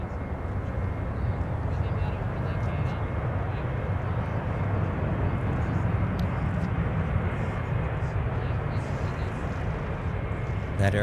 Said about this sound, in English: That aircraft right there is the ever-popular Airbus A321. It's coming in from Delta's World Headquarters in Atlanta, Georgia.